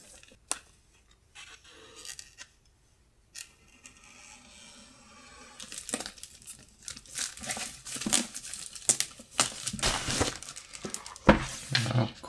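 Plastic packaging crinkles and tears as a box of Winsor & Newton Studio Collection colored pencils is unboxed, with sparse handling at first and then denser, louder rustling and crackling in irregular bursts.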